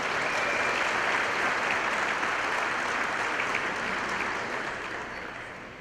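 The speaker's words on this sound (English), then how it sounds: "One more round of applause for all of our fundraisers and everybody who helped." A large audience applauds fundraisers and helpers at a live-streamed event, a dense, steady wash of many hands clapping that holds loud throughout and eases off slightly near the end.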